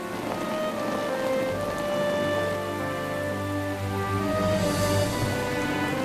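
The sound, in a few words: rain falling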